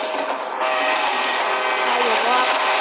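A train rolls past in a video game, a steady broadband rumble and hiss with a rising squeal partway through, continuous for the whole stretch and fairly loud.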